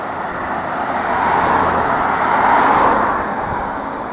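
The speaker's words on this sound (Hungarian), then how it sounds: "Jön a busz mögöttem." A bus coming up from behind on a mountain road in Slovenia's Julian Alps, heard as a broad, loud rumble of road and engine noise that swells, peaks and eases slightly, with no talking.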